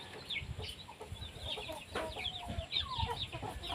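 Chickens clucking and calling inside an old farm chicken house, a steady cluster of bird sounds near and far with bursts of squawks across the whole stretch.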